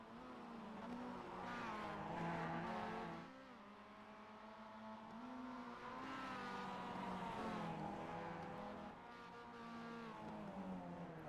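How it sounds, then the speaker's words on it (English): Mazda MX-5 race cars lap the Long Beach street circuit in the iRacing sim, with throaty engines rising and falling through the gears and faint tyre squeal under a continuous, fairly quiet drone. "You gotta love the throaty sound of that MX-5"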